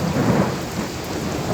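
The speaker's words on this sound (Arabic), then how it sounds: "أمطار ورعيد." Heavy rain pours down over Baghdad with thunder rumbling, a loud, dense wash of downpour carrying deep rolling booms, and no one speaking.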